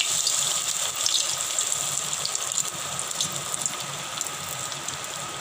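A piece of paneer for Paneer 65 frying in hot oil in a kadhai gives a steady, close sizzling hiss that continues evenly without pause.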